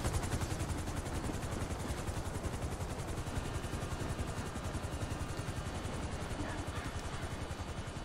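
A helicopter in a video game, its rotor thumping in a fast, steady rhythm with loud engine whine throughout, continuous and close, no talking.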